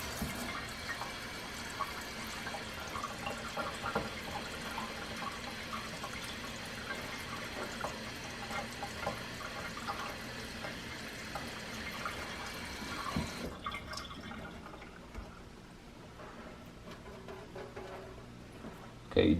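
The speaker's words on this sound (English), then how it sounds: "Let that water push through." Cold tap water runs on high from a kitchen faucet through a Berkey water filter element, a steady broadband rush that continues for about thirteen seconds before cutting to a quieter, fainter trickle.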